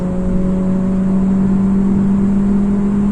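A Hyundai MPI automatic car under full throttle makes a loud, steady engine drone at high revs while accelerating hard, with no voices.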